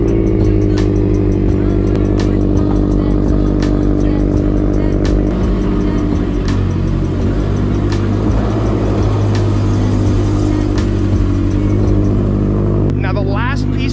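Subaru STi being pulled out, its engine giving a loud, close, steady low rumble that holds throughout with a slight rise near the end.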